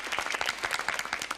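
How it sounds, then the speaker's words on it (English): A children's TV studio audience at a live 1993 Comic Relief show in a hangar bursts into brief, moderately loud applause, a dense patter of many hands clapping. "Rounds of applause, please."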